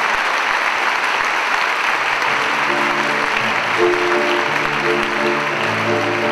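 Sustained applause from a concert audience at the Athens Concert Hall, dense and steady clapping throughout, with some faint tonal sounds rising underneath toward the end.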